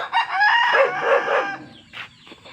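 On a Filipino poultry farm, a rooster crows loudly and close by in one drawn-out call, followed by short clucks from the surrounding chickens.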